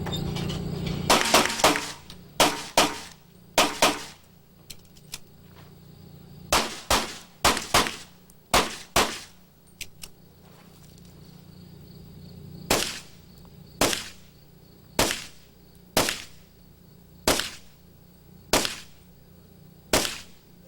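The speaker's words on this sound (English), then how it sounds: "she's shooting with a scope" Pistol shots at a USPSA shooting competition stage, fired by a shooter using a scope in sharp loud cracks, some in quick pairs and strings, with brief pauses between positions and faint metallic ringing.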